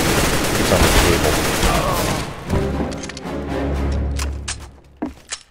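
Rapid game gunfire from Counter-Strike: Global Offensive on a dollhouse-style map, a loud sustained burst of automatic shots that eases into scattered single cracks and sharp bangs near the end, with voices faintly mixed underneath.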